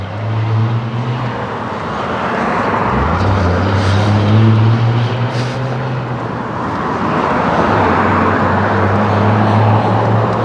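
An airplane takes off near Lake Worth Beach, a loud, broad outdoor roar with a low droning tone that swells and holds for about ten seconds.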